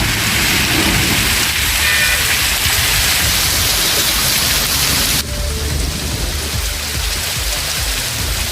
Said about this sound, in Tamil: பரவலாக பெய்த கனமழையால் தாழ்வான பகுதிகளில் மழைநீர் தேங்கியது